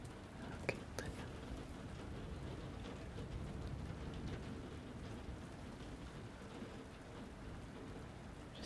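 Steady rain pours continuously as a dense, even hiss with low rumbling beneath, lasting the whole stretch, with a couple of faint close clicks early on and no clear talk.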